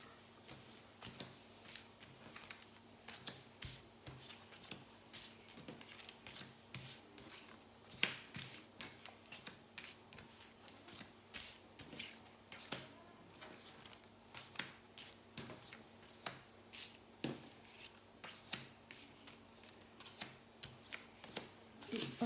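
Tarot cards being shuffled for a thirteen-card reading, a steady run of soft, crisp riffling clicks and flutters that continues quietly and close throughout, with no talking.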